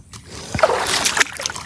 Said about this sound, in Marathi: चल तर पाण्यात आलो आपण